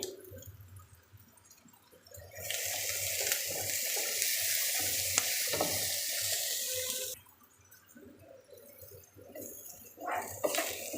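Chopped garlic goes into a hot pan of browning onions for a kalmi shak stir-fry. A loud, bright sizzle surges for about five seconds, then drops to quieter pan clatter and stirring.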